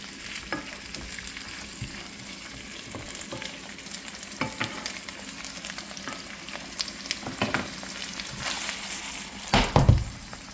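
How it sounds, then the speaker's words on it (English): A spice mix for curry sizzles steadily in a pan, a continuous close frying hiss broken by scrapes and clatters from stirring, with a louder burst of stirring near the end. "You can see it's beginning to fry a little bit."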